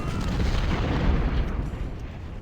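Cannon fire rumbles across a Civil War battlefield in Ultimate General: Civil War. A dense, continuous low roar of artillery holds steady for the whole short stretch and then fades slightly at the end.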